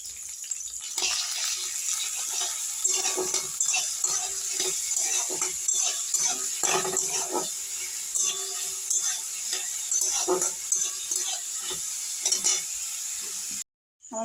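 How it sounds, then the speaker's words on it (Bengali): Chopped onion, garlic paste and green chili fry in refined oil for chana masala, a steady loud sizzle with scraping stirs throughout, ending in a brief silence. "আমি এখানে পেঁয়াজ কুচি, রসুনের পেস্ট আর কাঁচা লঙ্কাটা দিয়ে দেবো"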